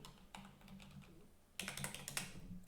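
Keys clatter on a computer keyboard in quick irregular bursts, a short flurry then a denser run of close, crisp clicks with no talking.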